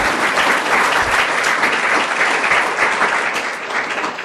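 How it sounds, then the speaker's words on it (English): An audience at a town hall meeting gives a loud, sustained round of applause for the staff, many hands clapping densely and evenly, tapering slightly toward the end. "So let's have a round of applause for their efforts"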